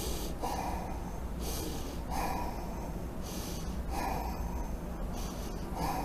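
A person breathes deliberately in a slow rhythm, with about five sharp, close nasal inhales like snorts separated by softer exhales, over a low steady background hiss.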